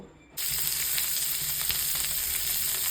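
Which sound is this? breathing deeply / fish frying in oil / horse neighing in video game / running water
fish frying in oil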